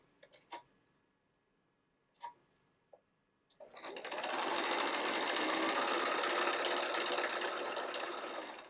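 A sewing machine stitches around a corner of quilt binding. A few soft clicks and brief handling taps come first, then the machine runs fast and steady for several seconds at close range.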